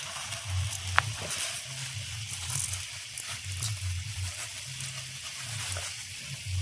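Chicken sizzles and bubbles in a pot as it is sautéed for chicken pulao at an outdoor forest picnic, a steady soft frying hiss with low bubbling pulses and a faint clink.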